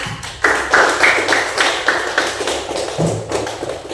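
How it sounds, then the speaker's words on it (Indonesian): Students in an Indonesian classroom clap together after a correct answer, a close, loud burst of quick hand claps that runs steadily for several seconds with a brief pause. "Bagus. Tepuk tangan."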